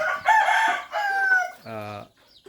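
Chickens in a backyard coop on a weekend morning give a loud, close crow followed by shorter clucks and calls, with no speech over them.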